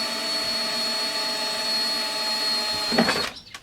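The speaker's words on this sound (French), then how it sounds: "c'est là que je vais avoir besoin de mon foret et de ma perceuse" A steady electric drill whines at constant speed for a few seconds while drilling a hole, then cuts off as the motor winds down.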